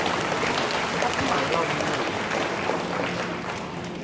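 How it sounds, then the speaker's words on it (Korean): Steady applause from a crowd of parents and students at a high school admissions briefing, continuous clapping that fades slightly toward the end. "손박수 부탁드립니다."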